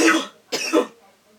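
Two harsh coughs close by, a short pause between them, then quiet.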